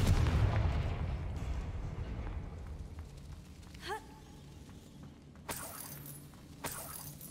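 Confringo fire spell blast in the video game Hogwarts Legacy, a cave-set rumbling burst that fades out, followed by a short whooshing zap and later sharp crackling impacts, with no talk.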